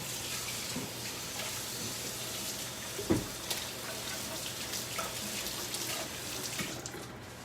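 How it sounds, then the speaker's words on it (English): Water runs steadily from a kitchen tap as hands are washed beneath it, a continuous broadband splash with one brief louder knock midway, no talking. "Just wash my hands."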